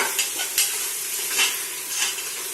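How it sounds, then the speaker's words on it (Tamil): Fresh mint leaves sauté in hot oil with a steady, bright sizzle, broken by a few louder stirring scrapes at regular intervals. "மொத்தமாக போட்டு நல்லா வதக்குன்னு நல்லா வதக்கிட்டு இருக்கோம் பாருங்க"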